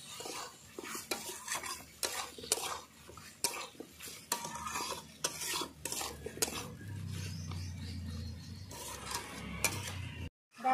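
Chicken curry with whole garlic, onions and small potatoes being stirred and sautéed in a pan, with repeated scraping and clinking of a spatula against the metal, a soft sizzle rising toward the end.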